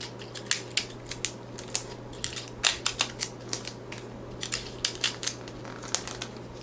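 Wrapping paper is folded and taped onto a Christmas gift box. Close, crisp crinkles and sharp snapping ticks of paper and tape come in an irregular rhythm over a quiet, low hum.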